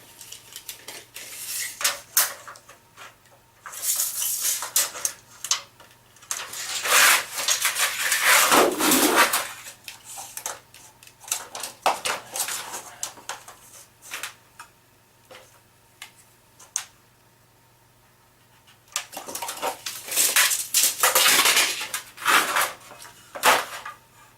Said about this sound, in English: I've measured out where I'm going to cut it, and basically you just have to scribe it and break it